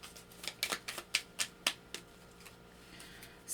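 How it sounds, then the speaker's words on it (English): Journaling cards are shuffled by hand in a quiet room, giving a rapid series of crisp riffling snaps that fade into soft handling, close and fairly faint. "So let's pull some journaling cards for you,"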